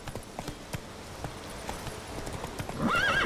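Horse in The Witcher 3 video game clip-clopping at a steady gallop, hoofbeats repeating under ambient noise, then a loud whinnying neigh near the end.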